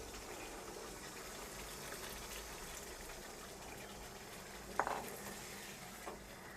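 Water poured into simmering aloo qorma, a potato curry in a pot, a low continuous gushing and bubbling with faint stirring, one brief louder splash near the end, no talking.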